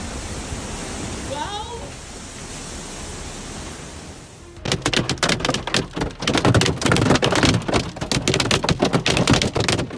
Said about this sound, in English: strong winds and hail demonstrate how quickly extreme weather can cause destruction